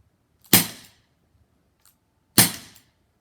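A Crosman SNR 357 air revolver fires two sharp, loud cracks about two seconds apart, each followed by a short decay, with a faint click between them.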